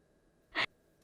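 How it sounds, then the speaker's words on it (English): A single breath sample from an XV5080 synthesizer's Platinum Tracks expansion board: one short, breathy exhale-like burst, clear and isolated against near silence. "it is a breath sound"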